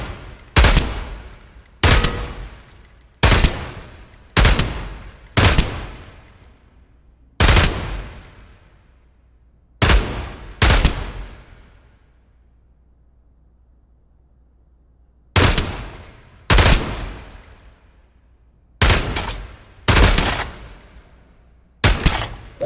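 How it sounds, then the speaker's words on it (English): Gunfire at shooting targets in the VR game Pavlov: loud, separate shots fired one at a time in uneven groups, each with a short decaying tail, and a long silent gap midway. "Shoot all the targets to continue."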